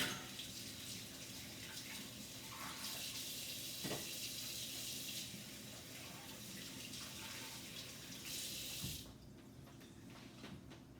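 Running tap water splashes steadily over hands in a home kitchen sink, a close, continuous hiss that briefly changes pitch and then stops abruptly near the end.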